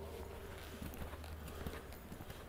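Horse hooves clip-clop at a walk during a riding lesson, a steady muffled beat of hoofsteps close by with faint background noise and no talk.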